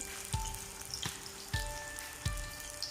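Spinach and potato pakoras frying in hot oil, a steady crackling sizzle with a few soft thuds from stirring or turning, close and continuous with no talk.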